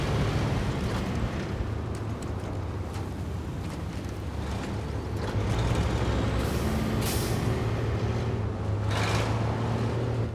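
A heavy truck in the SnowRunner off-road game rumbles with a steady low engine drone, joined by sharp hissing bursts of air brake release; no talking over it.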